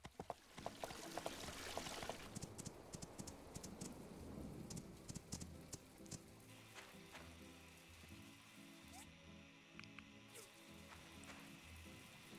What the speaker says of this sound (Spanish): Es que encima está lloviendo